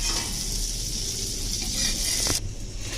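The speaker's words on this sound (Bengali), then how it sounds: "দেখুন এরকম লাল লাল করে ভেজে নিতে হবে দু পিঠ এ" Pieces of a homemade snack frying in oil in a pan, a steady close sizzle with a brief utensil tap, then a slightly duller hiss.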